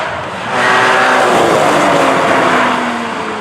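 Porsche Cayman GT4 with a manual gearbox driven hard, its engine note loud and close, rising and sustained through the run with tonal revving over broad road and wind noise, no talking.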